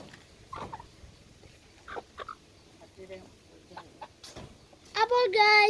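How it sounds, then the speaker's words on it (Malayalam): Hens and chicks cluck softly in scattered bursts, with a few faint voice-like sounds among them, before a run of loud, high chick peeps close by at the end. "ഇതാണ് നമ്മുടെ കോഴിക്കുഞ്ഞുങ്ങൾ"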